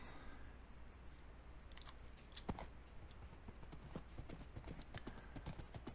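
A horse's hooves clip-clop steadily in Minecraft, a quiet, regular series of hoof taps over a faint background hiss, with no talking.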